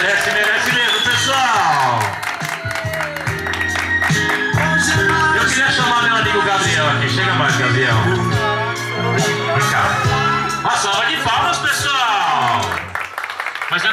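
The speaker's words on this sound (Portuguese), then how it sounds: "Pode bater palmas para o nosso homenageado." A birthday party crowd claps for the guest of honour, rapid hand claps running through the whole stretch beneath loud voices and what sounds like group singing.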